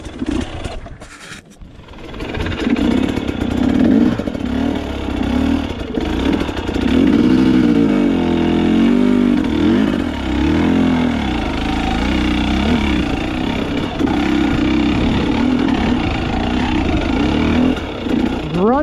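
A 2020 KTM 250 XC TPI two-stroke fuel-injected dirt bike engine drones loudly and close on a trail, holding a steady low-rpm lugging note with small throttle swells and no speech.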